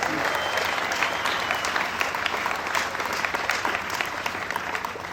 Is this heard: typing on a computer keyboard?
no